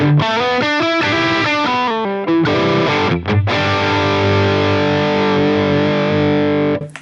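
Distorted electric guitar played through a PRS Archon amp model in a Line 6 Helix, loud and saturated, with rhythmic chugging chords for the first few seconds, a brief break, then a long sustained ringing chord.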